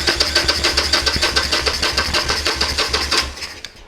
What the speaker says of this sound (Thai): ตอนนี้มันจะสตาร์ทไม่ได้เลยสตาร์ทเท่าไหร่ก็ไม่ติด